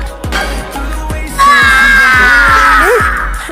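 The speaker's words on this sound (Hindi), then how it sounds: "ये तो किसी की चीखने की आवाज है।" A person screams in a Naruto cartoon episode, a strained cry that rises and lingers over dramatic music and repeated heavy percussive hits.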